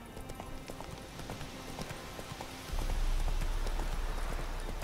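Steady clip-clop of horse hooves during riding in The Witcher 3, a rhythmic close trot that grows louder and heavier partway through, with no talking.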